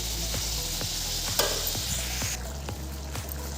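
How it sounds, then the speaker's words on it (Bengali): Cabbage with spices sizzles steadily in a hot pan, a constant close frying hiss with a few faint clicks of stirring. "এখন বাঁধাকপিটাকে দিয়ে দিলাম।"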